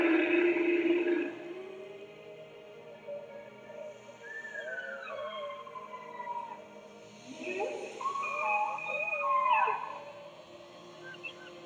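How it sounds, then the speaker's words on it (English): Whale song, a series of long sliding moans and rising and falling whistle-like calls that rise and fall in pitch, moderately loud, over a faint underwater hum. "such a special song that is unique to this whale."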